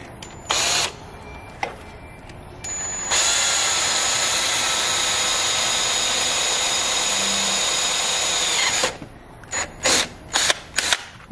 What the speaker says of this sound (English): helps if the drill's going the correct way